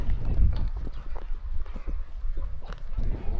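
A horse carries a rider across open country in Tunkhel, Mongolia, its hooves clip-clopping in a steady, close, uneven walking rhythm with low rumbling in between.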